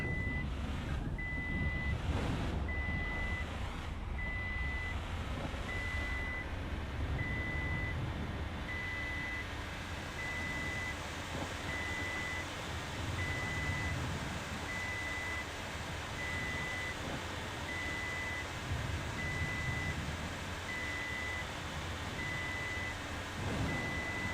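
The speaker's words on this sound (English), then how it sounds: "it just makes that beeping noise for the first few seconds of the hunt" A truck's reversing alarm in the video game Tornado: Research and Rescue beeps steadily at an even pace, roughly once a second, over a low, continuous engine rumble, going on without a break.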